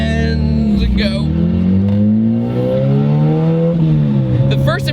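A turbocharged Honda EG hatchback with a B20 engine and open downpipe accelerates hard from a stop sign, loud engine note rising steadily in pitch with a brief shift dip, as someone talks over it throughout.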